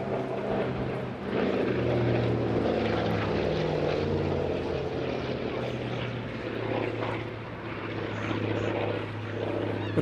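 A Hawker Sea Fury FB.11 piston-engine fighter displays at the Eastbourne Airshow 2022, its engine and propeller giving a continuous, loud throaty drone that swells and eases slightly as it passes, with no talking.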